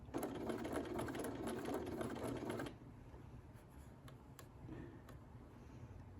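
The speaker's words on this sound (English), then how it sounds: "Just do a few little stitches and then just make sure it's being right where it should be." A sewing machine stitches fabric in a rapid, even run of close mechanical clatter for a few seconds, then stops, leaving faint handling noises.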